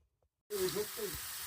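Steady loud sizzling of lamb steaks and potatoes frying in a hot pan, starting abruptly after a short silence, with faint clatter underneath.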